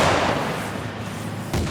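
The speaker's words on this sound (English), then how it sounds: "Thunderous explosions shake the ground and echo throughout the hills and valleys." Howitzers firing during live-fire military training in hilly country, a loud deep boom rolling into a long echoing rumble, then a second sharp report near the end.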